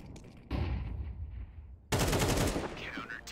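A Negev machine gun in Counter-Strike 2 fires two loud, sustained bursts of rapid automatic fire, the first stretching about a second and a half. After a brief pause the second starts abruptly and carries on with a ringing tail.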